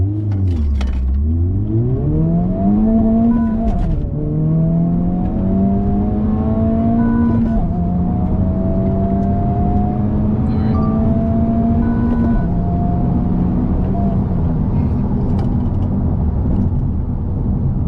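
A car engine revs hard and pulls away, pitch climbing through several gear changes, loud and close, running continuously.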